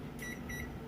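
A kitchen oven timer beeps while the cooking time is keyed in for a homemade cherry pie, giving two short, moderately loud electronic tones over a steady low appliance hum.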